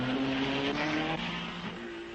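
A Cooper racing car, entered by Camoradi and driven by Masten Gregory at the 1961 Belgian Grand Prix at Spa, roars past loud and close with a steady high engine whine that slowly shifts pitch and fades slightly as it moves away.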